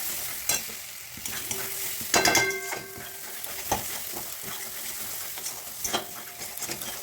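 Spice masala with Kashmiri chilli fries in oil in a pan, a steady close sizzle broken by several sharp scraping stirs of the spoon, with no talking.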